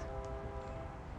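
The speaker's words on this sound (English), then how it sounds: "Pardon the train passing by." A commuter train passes close by on nearby tracks, making a steady, loud rumble with a droning hum and no pauses. No talking over it.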